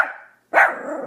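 Eddie Van Halen's pet dog gives two close, loud barks separated by a short pause; the first is a drawn-out yelp that fades, and the second is sharp and full before tailing into a rough, sustained bark.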